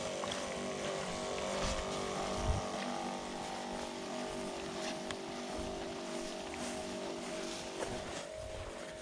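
A motorized backpack sprayer for crop spraying runs steadily with the trigger held, a continuous droning engine hum with a whooshing rush, close and constant throughout, with no talking.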